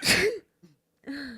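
A single sharp human sneeze bursts out close and loud, followed by a faint catch of breath and then a short voiced sound after a brief silence.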